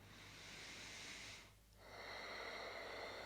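A single slow, audible breath during a gentle yoga flow: a long, airy inhale, a brief quiet pause, then a fuller, steady exhale, close to the microphone with no talking.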